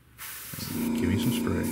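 Gunze Mr Airbrush PS-770 spraying paint, a sudden close hiss of air that starts abruptly and holds steady for over a second, with a voice speaking over it.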